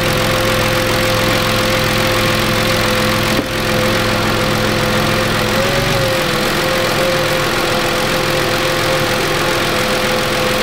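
A Kia car engine idles steadily for the whole stretch, a constant droning hum whose low rumble shifts partway through.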